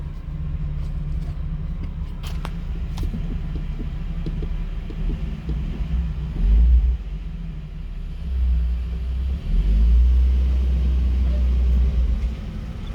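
A Toyota Supra engine idles while warming up, a deep steady rumble that swells a few times as revs rise, with someone talking over it.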